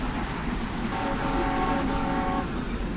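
A World War One train in the video game Unturned rumbles along with a steady low rolling drone. A brief tonal whistle or horn-like note rises over it partway through.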